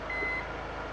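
A single steady electronic reversing beep sounds from a Hyundai All-New Tucson as it is shifted from park into reverse, clear over a low hum of background noise.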